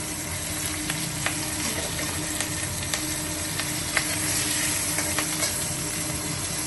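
One or two chillies fry in hot oil with cumin and chopped onion for a rui fish curry. A loud, steady sizzle carries scattered sharp crackles and pops throughout, with no voices.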